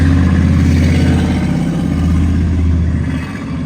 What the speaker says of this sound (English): sorry, freaking loud car behind me